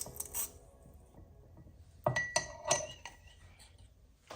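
Glass mason jar handled during marinade prep with a meat injector, a few bright clinks and knocks of glass bunched in the middle, preceded by faint small taps, close up and without speech.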